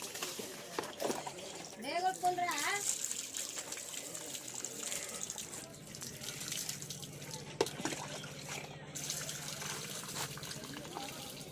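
Tap water runs over fresh ginger root as it is washed, a steady splashing stream that continues beneath a voice talking through much of the clip.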